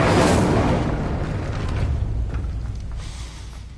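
A fiery Incendio spell bursts in Hogwarts Legacy, a loud close explosive whoosh that slowly decays into a low rumbling tail, with no talking.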